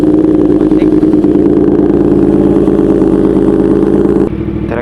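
A 2020 Yamaha R1 sportbike engine cold-starts and holds a loud, steady, close idle drone for several seconds, then drops in level near the end.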